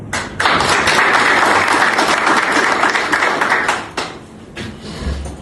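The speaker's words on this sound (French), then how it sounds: "c'était Maître Mokhtar Belda, que tout le monde connaît et que tout le monde doit applaudir." An audience at a corporate celebration of Mauritania's Independence Day breaks into loud, close applause that holds steady for about three seconds, then fades to a few scattered claps.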